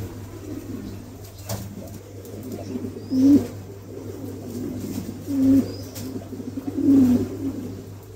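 King pigeons, a pair of show birds, cooing in a loft, with three distinct low coos at fairly close range over a steady background hum, no speech.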